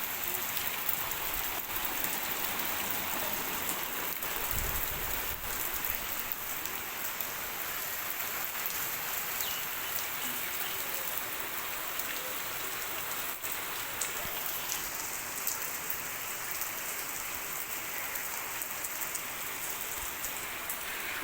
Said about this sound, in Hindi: बहुत बारिश हो रही है आज।